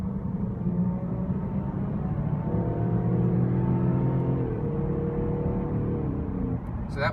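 A 2015 Range Rover Sport HSE V6 accelerates hard, its engine note climbing steadily in pitch through the revs, dipping at a gear change, then rising again, heard from inside the cabin with no talking.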